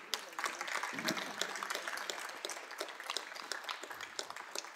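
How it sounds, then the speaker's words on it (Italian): Audience applause for an actor and musician at a Turin Film Festival masterclass, a steady wash of clapping from a seated crowd at moderate distance with some speech mixed underneath. "io gli farei un applauso"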